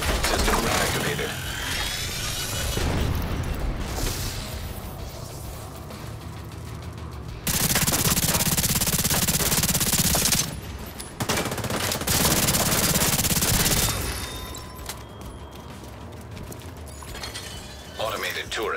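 Automated turrets in a video game open up with rapid machine-gun bursts in loud, dense stretches, broken by clanking mechanical sounds and a synthetic voice.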